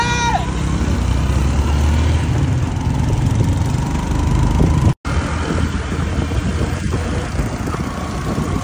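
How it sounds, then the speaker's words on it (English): A motorcycle taxi ride through Kigali, Rwanda at night, with a steady loud engine drone and rushing road and wind noise throughout, briefly cut off by a sudden dropout midway. "How to ride moto in Rwanda, Kigali, the city of Kigali at night."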